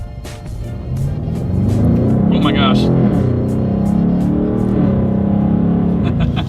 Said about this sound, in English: Let's do a quick little acceleration here in the M850i